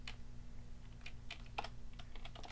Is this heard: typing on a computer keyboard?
yes